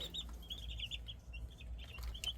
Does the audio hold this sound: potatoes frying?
no